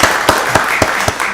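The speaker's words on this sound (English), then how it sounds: "Let's give Deidre Golston a round of applause back there." Audience applause at a Rockdale County Board of Commissioners meeting, a short burst of loud, fairly sparse hand claps with a steady pulse, heard without speech.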